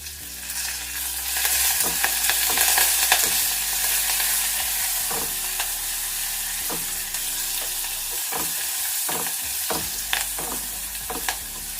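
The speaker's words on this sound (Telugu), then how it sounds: "ఇది కొంచెం వేగాలి." Coriander, cumin, pepper, crushed garlic and curry leaves fry in a pan for rasam, a steady close sizzle with scattered stirring scrapes and clicks throughout, no voices.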